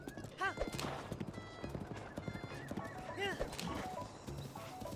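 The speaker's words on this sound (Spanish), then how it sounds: "Vamos allí montados a cualquier caballo, puede ser el único que acabes de capturar cerca" A horse gallops in the video game Zelda: Breath of the Wild, with rhythmic hoofbeat clip-clops and a couple of whinnies, as a person talks over it.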